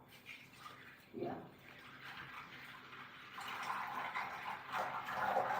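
Food rinsed under a running kitchen tap, water splashing and gurgling steadily and growing louder, with faint talking in the background.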